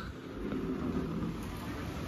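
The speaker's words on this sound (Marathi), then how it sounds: "पाऊस पडायला लागला." A sudden downpour begins, heard as a steady, broadband wash of rain with low rumbling underneath. It is fairly faint and continuous, with no talking during it.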